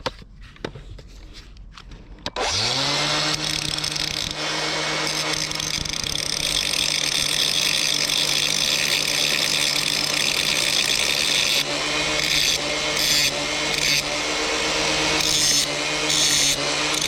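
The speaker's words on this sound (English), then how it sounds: "And you grind a little bit off the side of it" A grinder cuts metal from the side of a Briggs and Stratton ride-on mower part. It sounds as a loud, continuous abrasive whine that starts abruptly after a quiet moment and holds steady with slight variations in pressure.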